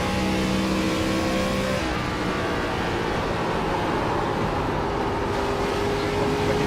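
An ARCA race car in iRacing at Rockingham drones steadily at high revs, loud and continuous, with the engine pitch shifting a little as the car goes through the corner.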